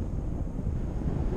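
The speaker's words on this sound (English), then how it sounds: "It's windy." Steady wind rushes across the microphone at a paragliding launch site with gliders in the air, a continuous low buffeting roar with no talk.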